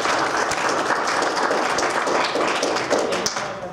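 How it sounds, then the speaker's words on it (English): Attendees at a graduate workshop on finding government jobs applaud the presenters, a close, loud burst of crowded clapping with crisp individual claps that carries on steadily before starting to fade. "So just give a round of applause."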